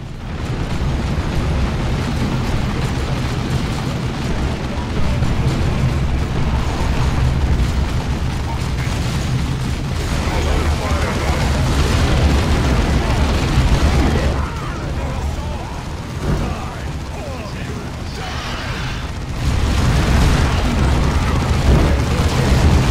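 Orks opening fire in the real-time strategy game Dawn of War with the Ultimate Exterminatus mod, a dense ongoing battle of booming explosions and gunfire, loud and continuous for over twenty seconds.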